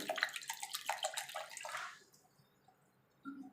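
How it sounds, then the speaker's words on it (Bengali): Cold water is poured in a short, splashing stream into a blender mixture with black salt for gondhoraj buttermilk, lasting about two seconds before stopping, followed by near-silence and a faint clink. "এর মধ্যে দিয়ে দেবো অল্প করে জল"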